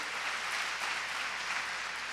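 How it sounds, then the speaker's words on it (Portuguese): A church congregation applauding for Jesus during a sermon, a steady dense wash of clapping that holds evenly from start to finish at moderate level, with no voices over it. "Pode dar uma salva de palmas para Jesus."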